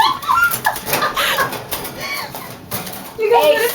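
A pet bird calls with short coos and chirps among scattered household noise, while a person speaks near it.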